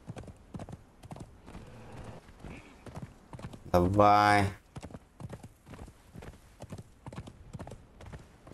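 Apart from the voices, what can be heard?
horse galloping hooves in the video game Conan Exiles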